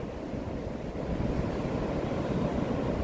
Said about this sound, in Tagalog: Damhin natin ang lagaslas ng alon sa dagat.